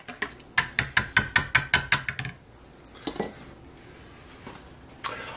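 A spoon or whisk clinks rapidly against a bowl while yeast is mixed into water, about a dozen quick, close, bright strokes, followed by quieter scattered taps and a final clink.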